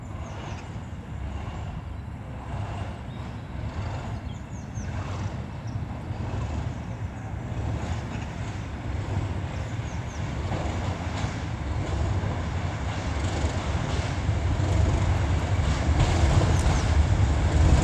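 Network Rail class 97 locomotive 97304 and class 37 37405 pass at Shrewsbury, a low diesel rumble and rail noise growing steadily louder under heavy wind buffeting on the microphone.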